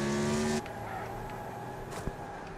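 A race car slides and skids in Wreckfest with a NASCAR Legends mod, its engine droning steadily under a loud tire scrub, briefly louder at the start before settling into a continuous slide.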